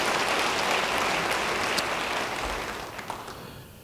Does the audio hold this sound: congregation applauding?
yes